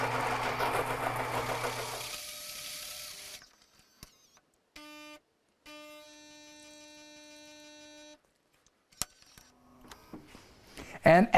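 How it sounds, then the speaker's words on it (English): A Gaggia Naviglio Milk espresso machine grinds with a loud buzzing whir, then falls quiet before brewing with short mechanical pulses and a steady tonal pump hum, ending in a few clicks and knocks. "press the espresso button and it will grind and brew that drink fresh for us"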